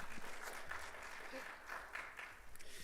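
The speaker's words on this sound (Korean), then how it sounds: "우리 뜨거운 환영의 박수로 함께 환영하도록" Faint, distant applause from a church audience at a Sunday morning service, a soft continuous patter of many hands welcoming a preacher, with murmured voices underneath.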